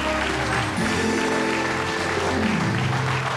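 Studio audience applauding at a Hungarian television game show celebrating its 1000th episode, a steady, dense wash of clapping sustained throughout.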